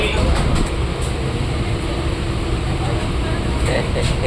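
Steady rumble of a train at a platform, with broad low-frequency noise and station ambience throughout, no clear voices standing out.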